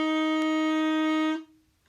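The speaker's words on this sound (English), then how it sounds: "This is what C natural would sound like in its unchanged," One sustained C natural note sounds alone, a steady pure tone lasting over a second before fading quickly, with a faint click partway through and nobody talking.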